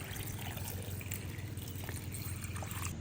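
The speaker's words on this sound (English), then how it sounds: "Add water." Water pouring into a rock tumbler barrel while polishing self-collected jasper, a steady close liquid splash and trickle running the full three seconds with no talking.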